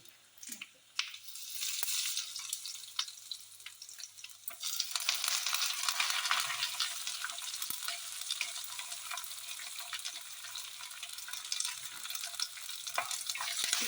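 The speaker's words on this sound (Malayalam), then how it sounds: "നമുക്ക് ഇതിലേക്ക് കറിവേപ്പിലേക്ക് ഇട്ട് കൊടുക്കാം" Curry leaves crackle in hot ghee with turmeric, a brief soft start and then a louder burst of sizzle that holds steady and close, with a few sharp pops.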